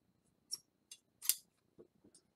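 Scissors snip the fingers off an old glove, four or five crisp close cuts at irregular intervals over a quiet background, with no talking.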